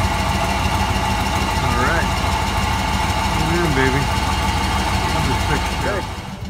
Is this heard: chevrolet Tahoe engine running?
yes